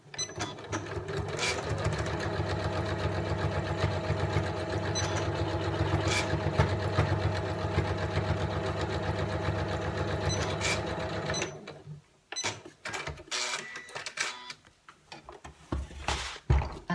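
A sewing machine stitches a mini tissue pocket holder in a loud, steady whirring run of about eleven seconds, then stops. Fabric handling and clunky knocks follow.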